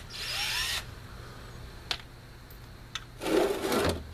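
A power drill loosens screws on an above-ground pool base, two short whirring bursts at the start and end separated by faint clicks and quiet handling.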